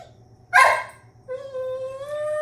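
A pet dog gives a sharp bark followed by a drawn-out whining whimper, close by and loud in an indoor room, with no talking.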